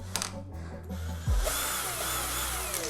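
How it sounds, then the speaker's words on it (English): Cordless drill backing out T10 Torx bolts from a BMW M235i interior panel, a brief close whirring motor that changes pitch as it stops and restarts, with light mechanical clicks. "I'm going to be using a drill"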